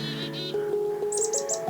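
Birds chirping nearby, quick repeated high tweets and short calls layered over a steady tonal backdrop, fairly close and clear.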